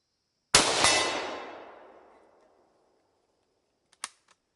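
A single sharp, loud shot from a Yugo 48A Mauser rifle fired downrange at an outdoor range, with a long fading echo. A few quick metallic clicks follow a few seconds later.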